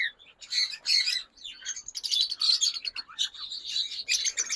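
A pale fallow lovebird breeder pair, blue and green, chirps and squawks in rapid, shrill bursts, close and fairly loud with short pauses between calls.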